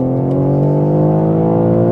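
A tuned BMW M3 Touring, pushed to about 590 horsepower, accelerates hard on the Autobahn, its engine note rising steadily in pitch through one continuous, loud, close pull with no talking.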